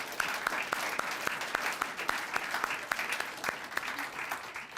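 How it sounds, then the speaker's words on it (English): Audience at the Sprockets St. Paul Out of School Time Network launch applauding together, a steady wash of many hands clapping with sharp individual claps standing out, sustained for several seconds. "Let's all give ourselves a round of applause."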